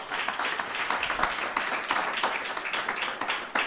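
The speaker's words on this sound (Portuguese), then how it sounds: "Aplauda ao Senhor" Congregation applauding at a Brazilian church service, a dense steady wash of many hands clapping with faint voices mixed in, fairly even in loudness throughout.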